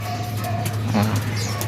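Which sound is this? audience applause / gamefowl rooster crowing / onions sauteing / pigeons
pigeons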